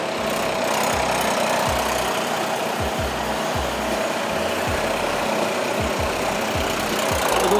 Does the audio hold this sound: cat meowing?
no